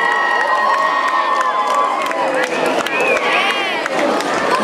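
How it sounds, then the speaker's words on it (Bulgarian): A festival crowd at Plus Festival Pazardzhik cheers, whoops and applauds as a mayor is invited onstage, loud and lively with shouts and whistles rising over the clapping, and voices calling out across the audience. "Аплодисменти!"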